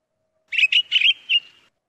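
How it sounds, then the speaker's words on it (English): Pine grosbeak calls: a quick run of four bright, whistled chirps, the first few tightly bunched and the last set slightly apart, clear and fairly close against a quiet background, with no talking. "that's the call that the pine grosbeaks make"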